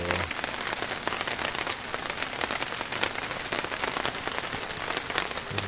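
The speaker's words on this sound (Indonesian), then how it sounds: "Hujan" Steady rain falls on a surface at a fishing camp, a loud, dense patter with occasional sharper drops and no pause.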